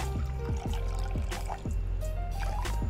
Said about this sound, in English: I've weighed out 150 grams of water, and I'll add that straight into my pot.